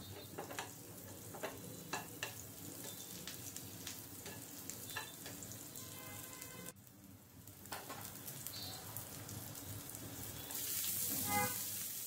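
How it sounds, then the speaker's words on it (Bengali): Onions fry in hot oil while being stirred, a steady sizzle broken by scraping and clinking of the spoon against the pan, close and moderately quiet, with no voice. "একটু ভালো করে নেড়ে ভেজে নিতে হবে।"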